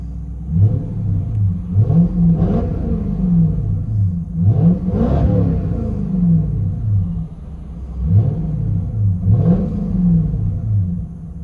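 Cabin view of a 1995 Lexus SC 400 with true dual exhaust, dual X-pipe and straight pipes: a deep, loud engine rumble revving up and settling back in repeated swells, heard from inside the car.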